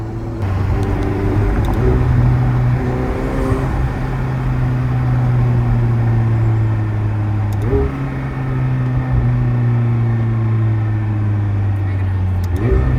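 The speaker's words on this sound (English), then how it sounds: "Hearing the turbos is the best part about this car." A McLaren 720S twin-turbo engine drones steadily while driving at night, with rising and falling tones as it shifts through gears and audible turbos, loud and close for the whole stretch.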